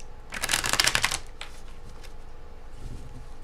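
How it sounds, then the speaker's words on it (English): A quick riffle of shuffled tarot cards, a dense flurry of crisp snaps lasting under a second, followed by softer handling noises. "Let's give us one good shuffle"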